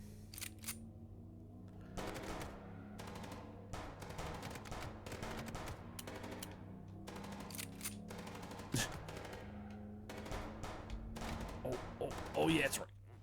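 Gunfire from the video game Chicken Police: Paint it Red: repeated rapid bursts of sharp shots over about thirteen seconds, mixed with speech.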